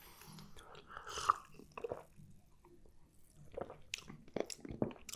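Close, wet chewing and soft squishy bites of a thick butter-fried pizza topped with hot honey, three cheeses and pepperoni, coming in irregular smacking bursts between quiet pauses, with no talking.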